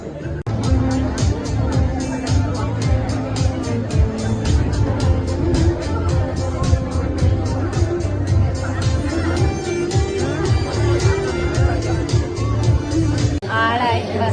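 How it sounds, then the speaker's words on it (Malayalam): A crowd chattering at an engagement function, a dense, loud hubbub of many overlapping voices that carries on steadily throughout, with a sharp rhythmic tapping running through it. "ബഹളായി."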